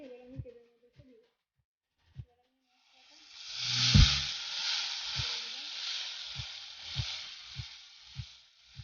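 Spice paste of ground coriander, cumin and chilli, mixed with sugar, salt, turmeric and water, hits hot oil. A few soft knocks come first, then a loud hissing sizzle that holds steady, broken by regular light clacks.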